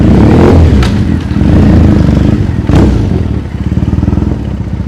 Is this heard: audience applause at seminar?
no